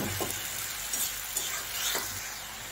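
Tomato puree masala frying and being stirred in a pan for a lauki chana dal curry, a steady close sizzle with soft scraping strokes of a spoon, no talking.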